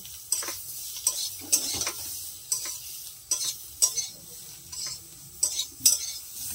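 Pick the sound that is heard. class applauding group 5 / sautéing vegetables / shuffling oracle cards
sautéing vegetables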